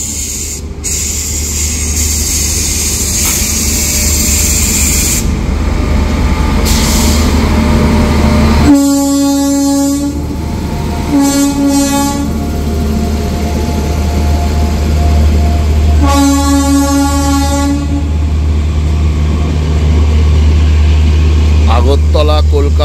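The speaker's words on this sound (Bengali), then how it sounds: "ট্রেন কিন্তু এখন ছাড়ছে" Agartala–Kolkata Garib Rath Express departing, a loud low rumble with hiss and intermittent tonal horn-like whistles, while a person talks over it.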